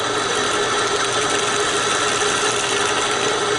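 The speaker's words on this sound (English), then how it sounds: "as soon as I start to do this with the drill bit, I am making a frictional relationship between this drill bit and this bar of steel" A drill bit grinding into a bar of steel, a dense, steady, loud whir that runs unbroken throughout with no voice over it.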